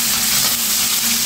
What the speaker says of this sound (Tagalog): tayo ay magpiprito ng galunggong